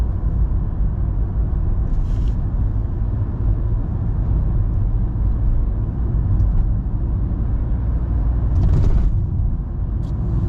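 Cars in evening street traffic around Lille, Roubaix and Tourcoing, a continuous low rumble of engines, many vehicles stopped, with occasional faint higher noises over the steady drone.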